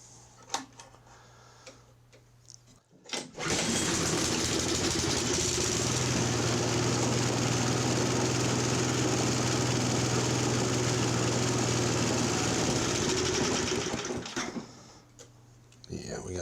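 An older Craftsman 5/24 snow blower engine with a starting problem catches abruptly and runs loud and steady for about eleven seconds, then dies away to a quieter background.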